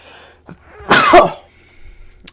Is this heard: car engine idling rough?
no